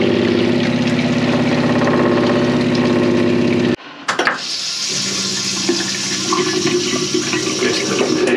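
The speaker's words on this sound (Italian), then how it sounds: "apro anche il boiler, così proviamo l'acqua" Water runs through the plumbing of a 4x4 camper truck as its boiler and hot water system are switched on, a loud steady rush that cuts off abruptly and resumes as a thinner, gurgling flow.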